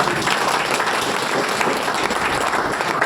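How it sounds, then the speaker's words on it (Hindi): A seated audience at a talk in India breaks into loud, dense applause, a continuous roar of many hands clapping that stays even and strong throughout. "एक बार जोरदार ताली आप सभी लोग।"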